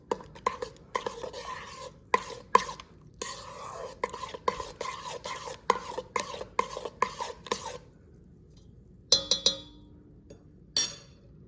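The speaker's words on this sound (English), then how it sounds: "And 4 teaspoons of salt, and then give that a little stir as well." Salt stirred into bagel dough ingredients in a bowl, quick scraping and clinking strokes of a utensil against the bowl in an irregular rhythm, then a pause and a few sharper clinks, close and clear with no talking.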